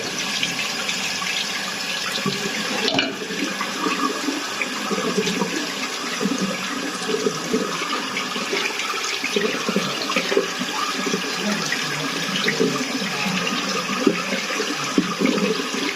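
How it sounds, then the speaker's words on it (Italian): Water runs steadily from a tap over a freshly cast metal pulley to cool it and rinse off foundry sand, a continuous close splashing rush with a faint sizzle. "Ora la raffreddiamo bene con l'acqua"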